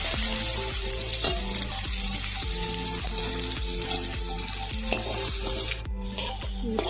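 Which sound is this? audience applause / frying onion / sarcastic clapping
frying onion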